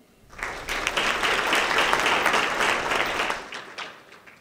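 A school board meeting audience at a support staff awards evening breaks into applause that rises quickly, holds as a thick steady wash of clapping, then tapers off toward the end.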